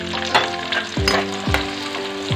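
Onion and garlic sizzle and crackle steadily in hot oil, with a few soft scraping stirs and clinks of a utensil against the pan.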